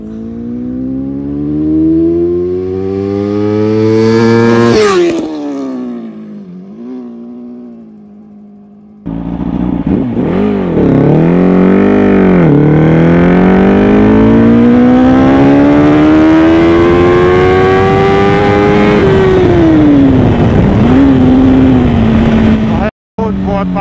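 An older-model Yamaha R1 motorcycle accelerates hard in first gear, its engine screaming up in pitch, dropping briefly, then roaring loud and close through long rising revs, with voices talking over it.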